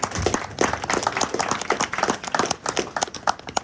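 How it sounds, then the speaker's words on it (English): A small group applauds at a post-fight press conference with brisk, uneven, close-sounding clapping that runs steadily for a few seconds. "I think we should all give you a hand of applause."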